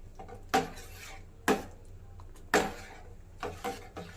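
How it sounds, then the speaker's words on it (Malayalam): A spoon scraping and knocking against a pan while stirring pineapple curd curry, four or five distinct clanks spaced about a second apart over a quiet background. "ഇത് കണ്ടിന്യൂസ് ഇങ്ങനെ നമ്മൾ ഇളക്കിക്കൊണ്ടേയിരിക്കണം"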